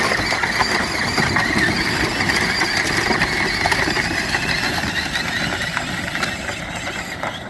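A Grave Digger Power Wheels toy truck driving with one wheel spinning, its electric motor giving a steady, loud whine with a gritty, grinding rumble underneath, continuous and close throughout.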